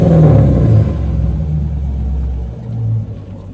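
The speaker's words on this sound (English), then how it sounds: "I'm gonna give y'all a little sound check with the exhaust" A car after an engine swap revs loudly through its exhaust, a deep throaty rumble swelling and easing twice over a few seconds, close by with no talk.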